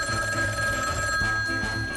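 A telephone bell rings steadily in a comedy radio show, a bright repeating ring filling the short moment on its own without talk.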